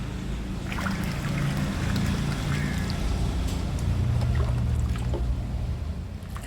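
Water being poured slowly back into a guppy fish tank during tank cleaning, a continuous, close splashing and trickling that swells and fades slightly.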